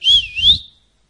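A person whistles in imitation of a father's ordinary call whistle, a loud, close, two-part tone that dips and then glides upward, lasting under a second and heard alone.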